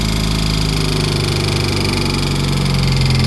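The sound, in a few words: abnormal noise from running 2003 Mitsubishi Eclipse car engine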